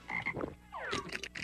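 A cartoon frog croaks in a short burst of throaty, wobbling calls with a rising warble, loud and close with no talking.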